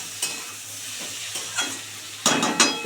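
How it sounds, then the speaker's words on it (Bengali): Fish head being stirred and fried with cumin in a pan, a steady soft sizzle under repeated scraping stirs, the strokes louder and busier near the end. "একটু ভাজা ভাজা হোক।"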